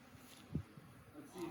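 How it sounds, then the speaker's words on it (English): Bees from a backyard hive swarm buzz faintly at close range, a low droning hum with a brief louder pass midway, while a person speaks quietly nearby. "Go in the hive, little bees."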